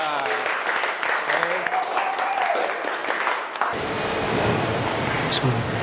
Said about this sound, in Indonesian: Ya, beri aplaus dulu untuk kelompok 3.